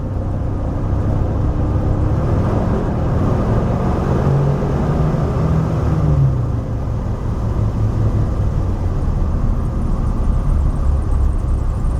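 RV engine idling and revving in cold weather as the gas pedal is pressed, a steady loud low rumble that swells slightly midway, with no talking.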